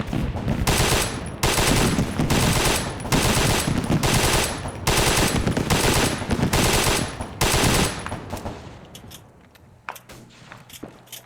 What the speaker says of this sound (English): This is such a cute little SMG.